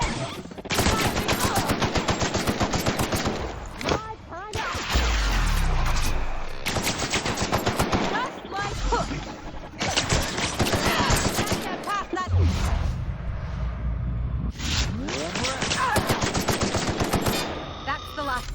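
Intense gunfire in Peril on Gorgon: rapid machine-gun bursts in long rattling volleys, loud and close, broken by short pauses and several heavy booming impacts.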